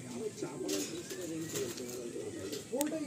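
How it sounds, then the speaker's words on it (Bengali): A male Pilanka pigeon coos in low, soft repeated rolls at close range, with a few faint clicks and rustles around it. "দুর্দান্ত একটা কোয়ালিটির পিলাঙ্কা পায়রা আছে"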